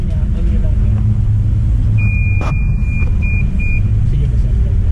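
A Kia Picanto fitted with a new 2.9 kg smart battery idles with a steady low rumble, close and constant, while a brief high electronic beep chirps a few times midway and voices talk nearby.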